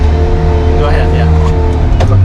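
Engine of a manual Autozam AZ-1 gullwing car pulling away from a first-gear launch, a steady low drone under close talk with a faint tire squeal near the end.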